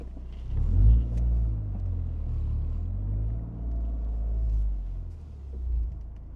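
A car idling and moving at low RPM after a new motor mount install, with a steady low rumble that swells and eases, close inside the cabin, no talking.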